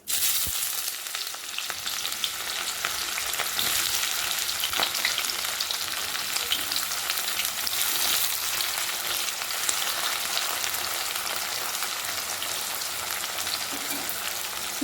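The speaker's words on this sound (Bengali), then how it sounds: "একটু লাল করে পেঁয়াজটা ভাজা নেয়" Steady, loud sizzling of onions frying in hot mustard oil, a continuous crackling hiss with occasional pops and stirring, no voices.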